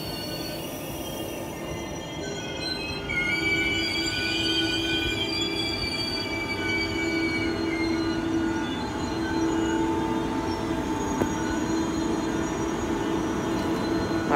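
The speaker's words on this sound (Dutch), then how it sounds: "Oh ja, dat gaat de trein" A train moving through Den Haag Centraal station, wheels squealing in long sustained high tones over a steady rumble of rolling stock, continuous and fairly loud.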